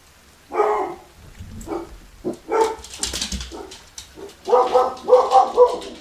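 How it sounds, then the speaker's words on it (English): Several dogs bark excitedly in The Forest, close and loud, with irregular bursts of overlapping barks and yips building toward the end. "Dogs are going crazy."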